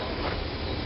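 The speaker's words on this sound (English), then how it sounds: "Y'all hear that train?" A close eastbound train rumbles past as a steady, dense roar with a hissing wash of wheel and rail noise, continuous and loud throughout the short moment.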